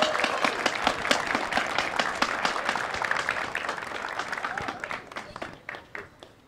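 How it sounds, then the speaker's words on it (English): A pep rally audience claps steadily for the mayor, a dense roll of handclaps that carries at full strength before thinning and tapering off near the end, with no speech over it. "Please put your hands together and give Mayor Bill Carpenter a round of applause."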